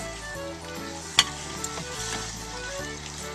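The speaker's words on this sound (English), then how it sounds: "I have in a pan a stick of butter melted and warm, and we're going to put in some ground beef." Two pounds of ground beef fry in a pan of melted butter with a soft, steady sizzle, close by, and a single sharp clink partway through.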